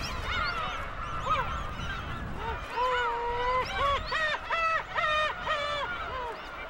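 Black-tailed gulls giving long territorial calls at a breeding colony, a series of loud, nasal, drawn-out wailing cries that repeat and overlap, with a few shorter yelping notes, close and clear over faint background noise.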